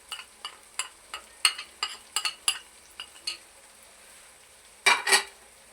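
A spoon stirs salt and turmeric into a pan of frying tomatoes for turai chana dal, giving a series of close, rhythmic scrapes and clinks over a soft sizzle, ending in a louder scraping burst.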